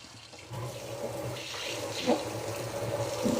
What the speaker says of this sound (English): I want to rinse out my colander real quick